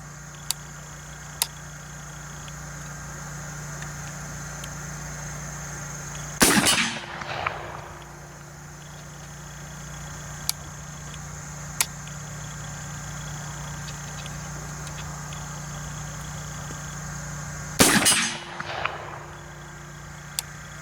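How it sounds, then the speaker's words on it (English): Black powder revolver shots from an Armi San Marco 3rd Model Dragoon Buntline with shoulder stock, fired at a big steel plate: two loud sharp cracks spaced about eleven seconds apart, each followed by a short ringing tail over a steady low background hum. "And I am shooting that big plate."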